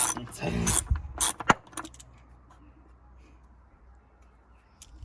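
Torque wrench tightening bolts during a service on a Mercedes W123 240 diesel, a few close metallic clicks and ratcheting clatters in the first two seconds, then near silence.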